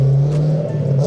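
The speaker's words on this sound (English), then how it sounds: "listen to the beautiful sound of the V8" A 1993 Lexus SC400 V8 with an aftermarket exhaust rumbles loudly and steadily, with a deep throbbing drone held close up throughout.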